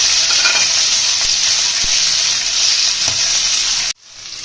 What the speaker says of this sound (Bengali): আমরা পনিরের তরকারির জন্য গোটা মশলাগুলো একটু হালকা করে ভেজে নেবো